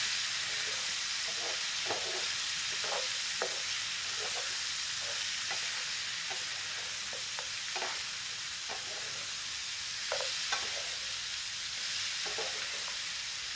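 Olives fry for pickle in a pan with a dense, steady sizzle and hiss, broken by repeated short bursts of stirring, close and loud throughout.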